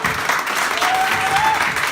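Church congregation at a New Year's Eve night service clapping steadily together, a dense continuous applause filling the room with no pause.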